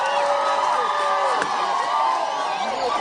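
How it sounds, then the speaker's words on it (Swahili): Large outdoor crowd cheering and whooping at a presidential event in Homa Bay, a loud continuous roar of many voices with shouts rising above it. "Wapi makofi wananchi?"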